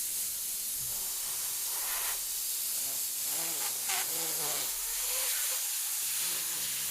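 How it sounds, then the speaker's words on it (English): A steady hiss of an airbrush spraying paint runs throughout, with brief bursts and faint tonal squeaks layered over the continuous airflow. "you just want to spray enough to make tone"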